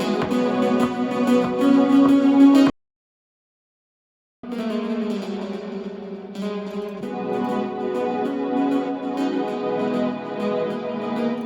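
A future bass synth melody played in Logic Pro X, with bright sustained chordal tones that cut to silence for about two seconds, then resume and build with a fuller layered texture.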